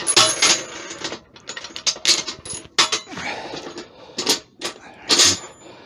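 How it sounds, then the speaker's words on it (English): The clamps on a Vevor 30 litre pressure pot are undone in a series of loud, close metallic clanks, clicks and ratcheting snaps separated by short pauses. "Open it up with the fire clamps."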